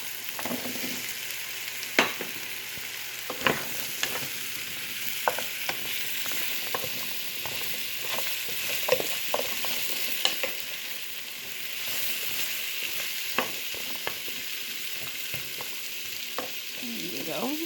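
Beans frying in a pan and being stirred, a steady hiss of sizzling oil with scattered sharp scrapes and taps of the utensil throughout.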